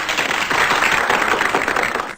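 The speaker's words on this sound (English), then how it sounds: "We should applause her." Crowd applause: dense, steady clapping from many hands that holds evenly for a couple of seconds and then cuts off abruptly.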